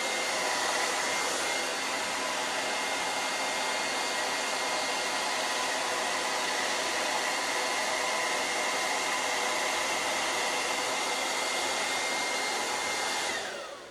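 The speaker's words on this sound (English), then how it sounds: "So that's a vent brush blow dry." A hair dryer blows steadily and loudly at close range for the whole stretch while hair is smoothed and straightened with a vent brush, cutting off near the end, with no talking.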